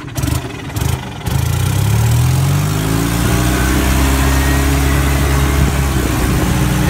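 Golf cart engine revving up under acceleration, a loud steady mechanical drone with rising and falling pitch as it shifts into second gear, close and continuous with no talk.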